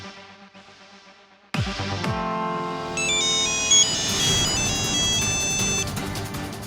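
A phone ringtone for an incoming video call starts abruptly and plays a bright, repeating melodic jingle, loud and close, continuing steadily to the end.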